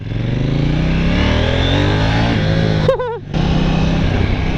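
A KTM 790 Duke motorcycle engine roars loudly and close, its exhaust droning and shifting pitch, with a brief rising rev that cuts off before the steady rumble returns.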